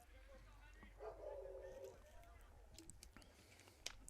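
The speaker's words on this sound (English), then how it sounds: "The dog is not happy about this situation." A dog barks and whines at an American Legion baseball game between Albert Lea and Stewartville, one drawn-out yelping cry rising briefly above the ballpark ambience and distant talk.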